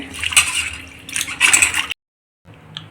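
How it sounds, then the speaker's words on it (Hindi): Potato slices for chips being rubbed and rinsed by hand in water, giving close splashing and sloshing bursts, then a brief silence before a quieter splash. "ऐसे मल मल के धो के निकालेंगे और दूसरे पानी में डालते जाएंगे"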